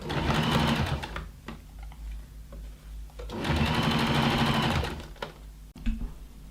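A sewing machine stitches a side seam on a leather cocoon skirt in two steady runs of fast needle chatter separated by a short pause, fairly close, followed by a few handling clicks.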